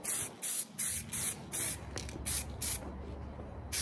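Bursts of a spray gun laying a light top coat of paint onto a truck panel, close and loud, in repeated short blasts with brief gaps, roughly nine passes, no talking.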